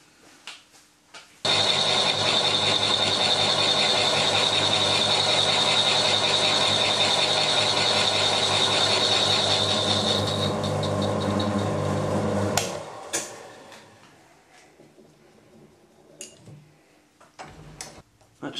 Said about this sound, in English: It's similar to boring a hole in the lathe, except you're spinning the tool, not the part.